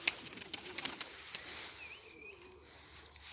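Pigeons released from a backyard coop near a rubbish dump, with a few soft coos and light wing and foot movements at a moderate distance in an otherwise quiet outdoor setting.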